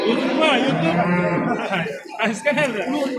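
A cow at the Oqtepa livestock market moos loudly and close by in one long drawn-out call, followed by a shorter second low, with market noise around it.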